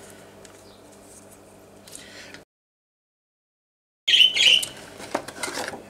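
Bottles of acrylic paint are shaken close by. A soft muffled shuffle gives way to a sudden gap of silence, then a loud, quick rattling clatter of liquid and plastic.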